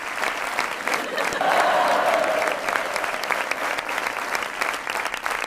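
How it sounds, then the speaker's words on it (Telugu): An audience breaks into sustained applause, a dense crackle of many hands clapping that swells briefly and then carries on steadily, with a few voices faintly mixed in. "మనోడికి క్లాప్స్."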